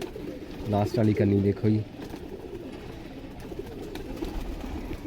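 A cluster of low pigeon coos sounds near, about one second long, from racing pigeons in a breeder's loft, while someone talks over steady background noise.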